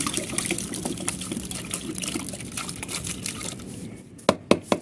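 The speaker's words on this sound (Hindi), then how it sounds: "और इसमें अब मैं पानी डालने लगा हूँ" Lukewarm water pours into a container holding rubber-coated dumbbells, a steady watery rush across the whole stretch that ends in a few sharp knocks or splashes near the end.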